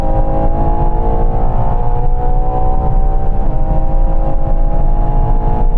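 Inside a Ferrari Purosangue V12 SUV on a quarter-mile acceleration run, the engine drones loud and close at high revs, its tone climbing smoothly and steadily with no speech.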